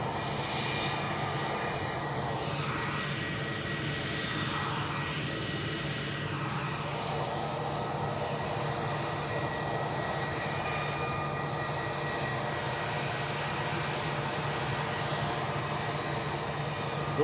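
Jet airliner at Edinburgh airport, a loud sustained engine roar with a smooth sweeping whine, heard alone at a steady level.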